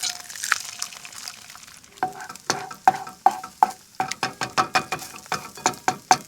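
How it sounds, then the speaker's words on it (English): An egg fries in butter and garlic in a pan at a lakeshore campsite; a gentle sizzle opens, then a utensil scrapes and taps the pan in a quickening run of sharp, close strokes, with no talking. "I'm also gonna crack an egg in there and get that cooking up too"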